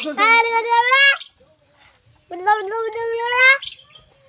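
A talking bird imitates speech in two loud, close, raspy phrases of about a second each, separated by a short pause and followed by a faint, brief call.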